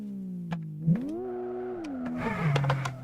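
Hyundai i20 Coupe WRC rally car engine in the Richard Burns Rally game, a faint tonal whine whose pitch rises and falls briefly as the car moves off, mostly alone.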